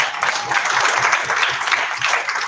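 An audience at an awards event claps steadily, a dense, loud wash of many hands that continues unbroken for the whole stretch.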